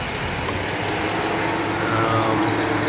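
Chevy 5.3L Vortec V8 idling smoothly, a steady broadband engine rumble with a low throbbing undertone, close up and continuous with no talking.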